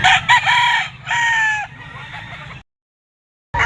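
Gamecock roosters crow loudly and close by at the Grotto pet market, two or three calls overlapping with clucking, then a brief silence.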